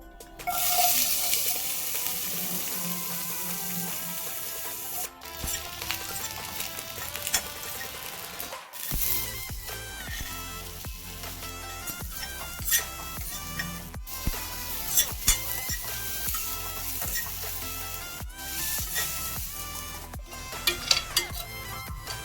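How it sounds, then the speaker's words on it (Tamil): Paneer pieces sizzle and fry in oil in a kadai for a Kolhapuri-style vegetable curry, a steady crackling hiss with occasional clinks of a spatula against the pan, broken by a few short pauses. "கடாயில் ஆயில் விட்டு இந்த பன்னீரை 2 மினிட்ஸ் லைட்டாக வறுத்து எடுத்துக்கலாம்."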